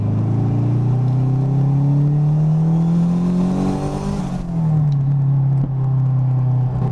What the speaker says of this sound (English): For it to go into second, I really got to rev match it.